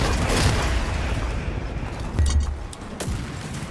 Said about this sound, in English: Friendly airstrike is coming.